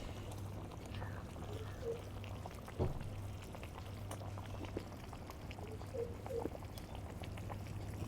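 Pieces of cleaned fish are dropped into a pot of simmering Tamil fish gravy, meen kulambu. There is a soft splash and plop over a steady low bubbling, with faint background noise throughout.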